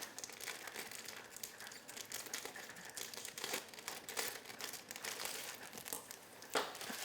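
A spice cake mix package is cut open, with a faint, close crinkling and rustling of packaging that goes on steadily and ends with a brief sharper tear.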